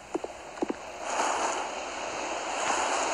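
Splashing water and waves from entering the sea in the survival game Wildcraft, a few sharp splashes followed by a steady, moderately loud wash of surf with no talking.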